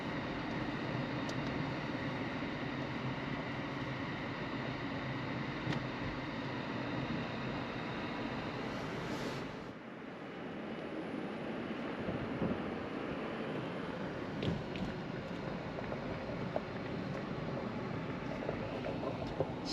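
A car's engine drones steadily as it climbs the zigzag road up Haleakala volcano on Maui, a continuous in-cabin rumble with road and wind noise that dips briefly midway before resuming.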